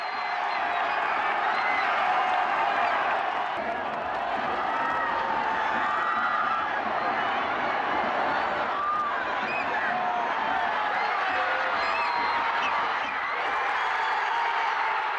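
A K League stadium crowd keeps up a steady roar of cheering and applause, with shouts rising and falling in a dense, distant wash that never breaks.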